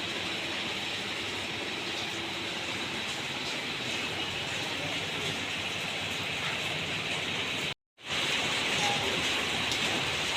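Dense, steady downpour in Delhi hissing loudly and evenly throughout, with a brief dropout near the end before the heavy rain resumes.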